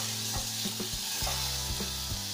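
Food sautéing in a pan, a dense, loud, continuous sizzle close by, with a steady run of soft stirring strokes and no speech.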